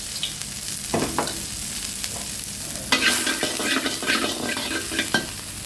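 Minced pork sizzles in hot oil while a utensil scrapes and stirs around the pan in irregular bursts, close and steady.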